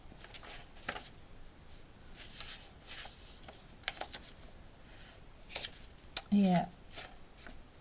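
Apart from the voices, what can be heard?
cutting paper for a handmade envelope mini album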